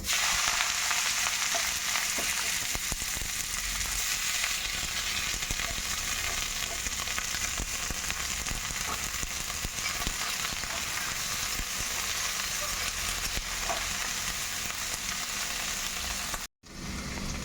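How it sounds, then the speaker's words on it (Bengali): Chopped onion sizzles steadily in hot mustard oil with five-spice, a loud, constant frying hiss with faint stirring, continuing unbroken until a brief cutout near the end. "ফোড়নটা ভাজা হয়ে গেছে এখন দিয়ে দেবো এর মধ্যে কুচনো পেঁয়াজ"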